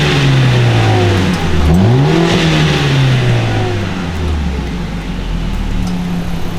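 A 2020 Mercedes-AMG CLA45S (C118) with its stock exhaust, its four-cylinder engine revving hard: a loud, close, sustained drone that swells in pitch around mid-clip, then settles back to a steady high idle.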